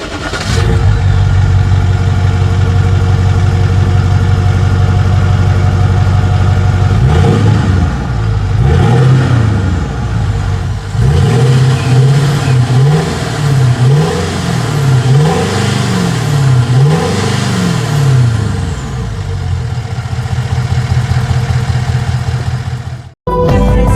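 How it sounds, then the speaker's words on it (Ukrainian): A BMW E39 540d V8 diesel engine runs loudly and close by, idling and then revving up and down repeatedly before cutting off abruptly near the end. "Двигун дає нам менше шуму та вібрацій, більшу стійкість при роботі."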